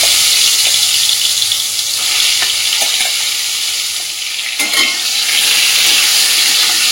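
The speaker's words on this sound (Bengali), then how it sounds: "নুন, হলুদ, লঙ্কার গুঁড়ো, চিনি মাখিয়ে রাখা পটলগুলো তেলের মধ্যে দিয়ে দেবো" Pointed gourd pieces coated in salt, turmeric, chili powder and sugar fry in hot mustard oil. The loud, dense sizzle runs continuously, with a few faint scrapes and stirs.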